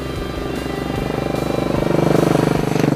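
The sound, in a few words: Royal Enfield Continental GT Cafe Racer motorcycle engine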